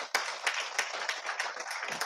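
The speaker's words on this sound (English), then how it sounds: "Please, big round of applause." An audience at a World Food Safety Day celebration claps, a run of fairly regular, sharp claps with a slightly ragged rhythm, moderately loud and close.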